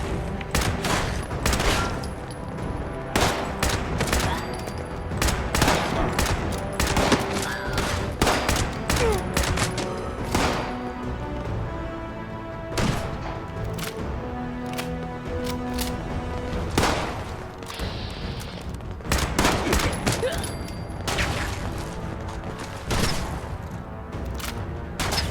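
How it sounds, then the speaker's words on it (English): Enemy gunfire in Fallout 76, with repeated loud volleys and bursts of shots that come in clusters, some fast and rattling like automatic fire, with short gaps between the clusters. "I think they're shooting at me without actually knowing specifically where I am."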